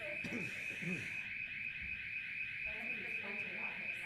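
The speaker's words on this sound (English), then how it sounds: "The alarm shouldn't be on." A fire alarm shrills through a city council meeting room in American Canyon, a steady piercing electronic tone that never lets up, with people talking faintly underneath.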